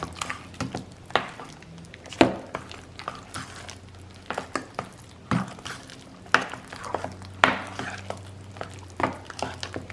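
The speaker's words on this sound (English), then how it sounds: "And you want to get that egg mixed all the way in, blend it all the way in with your spoon." A spoon stirs softened room-temperature cream cheese and egg together for lasagna filling, giving close, irregular wet squishes and clinks against the bowl throughout, with no talking.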